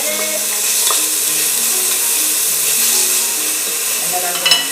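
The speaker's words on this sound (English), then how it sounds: "Sizzle is important." Seasoning sizzles loudly in a frying pan ahead of roasted breadfruit being added, a steady hiss with faint stirring scrapes and light clinks near the end.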